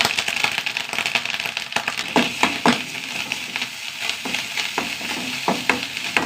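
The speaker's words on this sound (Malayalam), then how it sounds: "നെയ്യിൽ കടുക് പൊട്ടിക്കുക" Mustard seeds spluttering in hot ghee, a close, steady sizzle crackling with many sharp pops that come irregularly throughout.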